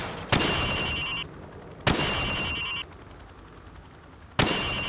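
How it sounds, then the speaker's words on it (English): Rifle shots in Call of Duty 4, fired from the hip at targets on a training range: three sharp, loud reports spaced over a few seconds, each followed by a short tail of ringing and clatter. "Now, shoot at the targets while firing from the hip."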